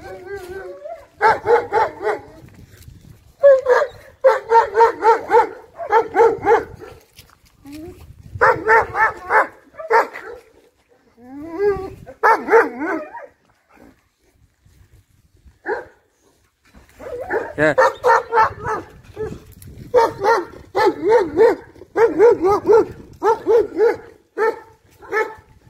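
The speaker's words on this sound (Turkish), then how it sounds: "Burada da güzel bir Alman kurdu var." A German Shepherd barks in repeated bursts out on a neighbourhood street, loud and fairly close, with pauses between volleys and a few whimpering yips mixed in.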